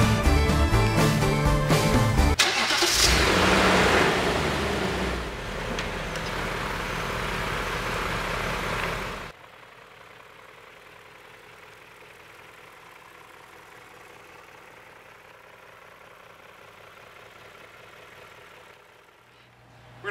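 A 400 horsepower BMW M5 engine fires up loud and rough for several seconds, then drops to a much quieter, steady idle that continues to the end.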